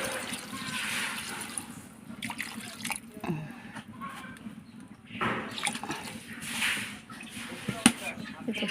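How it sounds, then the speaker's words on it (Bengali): Water is poured into a curry in a cooking pot, a splashing, gurgling flow in uneven bursts close by, with someone talking over it. "তো পানি দিয়ে দেবো"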